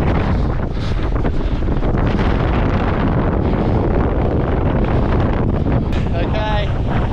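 Strong coastal wind roars steadily into the microphone at the shore before a wing foil session, with a continuous loud buffeting rush and faint surf underneath.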